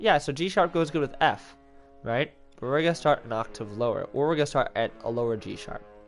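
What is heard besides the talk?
None of the usual background noises is heard.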